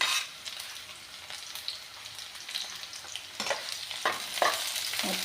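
Chopped potatoes and onions, already light brown, sizzle softly in a pan for a mixed bitter gourd and okra sabzi, with intermittent stirring and scraping strokes growing louder toward the end.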